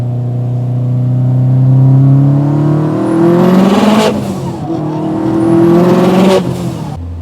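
Mitsubishi Lancer Evolution 8 on boost, revving hard through two rising pulls with whining turbo and a shift between, loud and close, no talking.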